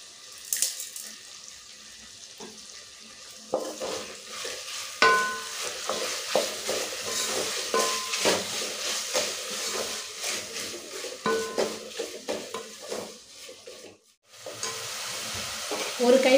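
Tomatoes sauté in a pan for a mushroom biryani while a spoon stirs them, giving a soft, uneven sizzle broken by scraping and clinks. A short lull comes near the end before the cooking noise returns.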